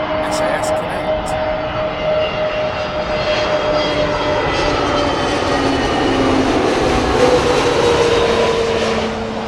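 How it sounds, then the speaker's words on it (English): An SAS Connect Airbus A320neo arriving from Stockholm gives a loud, steady jet roar with a rising engine whine, sustained throughout and heard from outdoors near the airport. "A320neo from Stockholm, the SAS"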